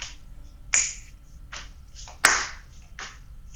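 A few sharp hand claps and snaps spaced about a second apart, crisp and close, demonstrating a basic beat with brief decays between hits and no talking.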